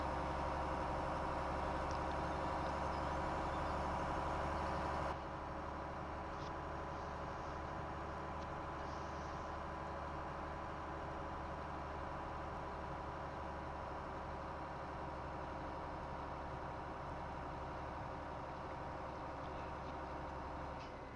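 Truck engine idling in the Farming Simulator 17 video game, a steady low drone that holds constant throughout, slightly louder for the first few seconds and then settling.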